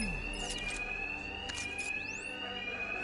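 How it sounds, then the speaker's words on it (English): Electronic alarm ringing in the Batman: Arkham Knight video game, a steady high-pitched tone holding through the whole stretch with brief bursts and a rising sweep over it, alone without talk. "The noise of the alarm."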